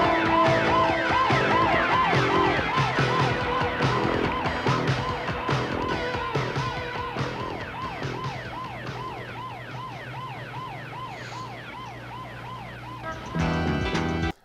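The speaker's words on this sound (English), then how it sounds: "you hear a cop siren, but you never see cops on screen" A wailing police siren from a 1985 South Bronx film cycles rapidly up and down, loud at first then gradually fading as if pulling away, with street noise underneath and no speech.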